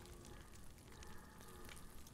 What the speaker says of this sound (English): When it sizzles, it's done.